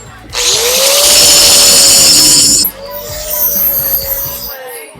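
Loud, close power tools grind and drill welded parts for a five-ton crew cab truck build, a high whining drone with squealing tones that drops to a lower grinding whir partway through.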